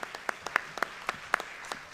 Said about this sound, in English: Definitely give her a round of applause.